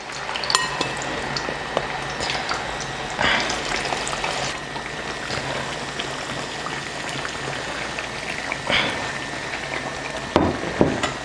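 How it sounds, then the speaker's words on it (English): Potatoes fry in hot oil for a breakfast of fried potatoes and eggs, a steady close crackle and sizzle with a few louder pops and stirring clinks, and no talking. "Then I'm just going to put this into the oil."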